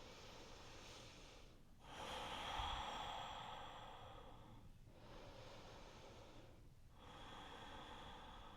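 Slow, audible breathing during a yin yoga stretch hold, long soft inhales and exhales with a gentle airy hiss, a fuller breath early on and pauses between breaths, close and quiet.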